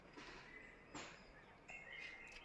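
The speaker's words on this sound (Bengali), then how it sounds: "পাখির আওয়াজ ছাড়া কোনো আওয়াজ নেই" Birds chirp faintly in a quiet hill forest, a few thin calls spaced out over soft background hiss.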